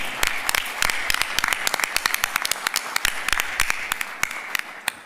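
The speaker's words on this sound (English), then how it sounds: "Round of applause for Diane" Applause at a State of the County address for the new clerk of the legislature, made of sparse, distinct sharp claps from a modest crowd over a steady room hum, fairly close and moderately loud.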